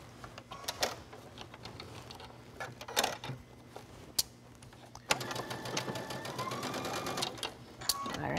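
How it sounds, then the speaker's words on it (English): A sewing machine stitches fabric cut on the bias, with a soft mechanical whirring and rapid needle clatter that starts and stops, then runs more steadily near the end, close and fairly quiet. "go back to the sewing machine"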